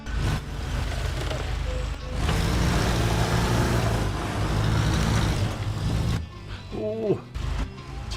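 A heavy truck engine labours through dense forest in the off-road game SnowRunner, set in British Columbia: a loud, continuous low rumble strains for several seconds, then eases, with a brief voice and some creaking near the end.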